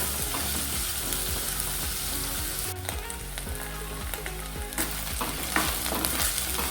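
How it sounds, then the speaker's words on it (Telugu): Finely chopped onions and curry leaves fry in a tempering of spices, a continuous close sizzle with occasional stirring scrapes and clinks, a short dip partway through before the crackle resumes. "పోపు దినుసులు కాస్త వేగాక ఇందులోకి 2 మీడియం సైజ్డ్ ఉల్లిగడ్డలు సన్నగా తరిగినవి వేసుకోవాలి."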